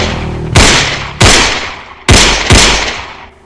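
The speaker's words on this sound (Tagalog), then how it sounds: "tumba si Kapitan Adolfo Berosel sa sunod-sunod na putok ng baril" Four sharp, loud gunshots ring out close by in quick, uneven succession, each followed by a short decaying tail, used as a sound effect in a crime narration.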